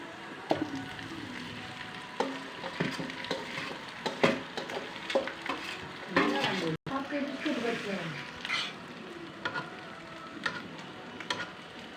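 Boiled potatoes are being fried with browned onions in a pan: a steady sizzle runs throughout, with stirring scrapes and clicks of a spatula, and a voice talks intermittently over the cooking.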